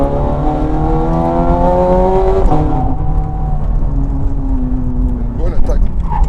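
Naturally aspirated V8 of a Ferrari 430 Scuderia on a public road, a steady loud engine drone whose pitch climbs and shifts through gears, heard from inside the car while people talk over it.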